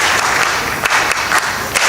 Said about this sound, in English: So let us give a hand clap to Ministry of Health.